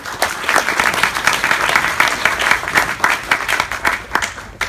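Audience applause welcoming speaker Albert at a talk on tripling job offers, a dense, steady burst of clapping from the crowd that thins out toward the end.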